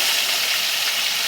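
Fresh river sarting fish frying in hot white oil in a kadai makes a steady, loud, close sizzling hiss with no breaks.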